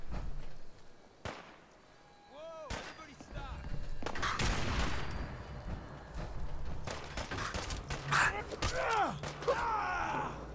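Gunfire in Fallout 4 rings out as several sharp shots and bursts spread across the scene, mixed with other game effects, creaks and impacts.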